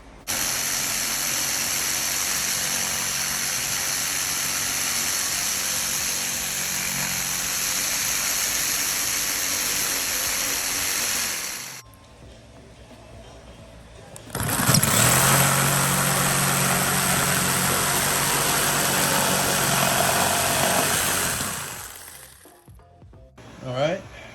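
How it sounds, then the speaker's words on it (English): A small jigsaw cuts a hole for an overland kitchen build in a 1989 Geo Tracker tin-top, buzzing loudly and steadily nearby for about twelve seconds, pausing, then running again for another long cut. "We're going to grab our little jigsaw, or whatever it's called."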